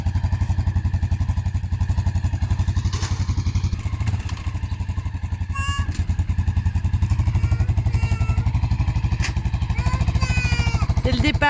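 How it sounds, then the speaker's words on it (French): A motorcycle engine idles steadily up close, its rapid, even putter running loud for the whole stretch, with a few faint clanks and brief whistly sounds on top. "On l'a sorti il n'y a pas longtemps la moto."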